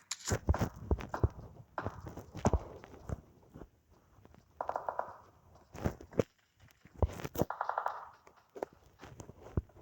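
Footsteps in the mobile battle royale game PUBG Mobile, a run of quick repeated thuds that come in bursts, with brief tonal game sounds in between and no talking.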